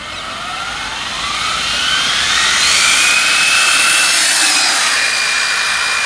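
An ARRMA Infraction BXL RC car screams past at high speed, its whining motor swelling as it approaches and holding loud and near, with no talk.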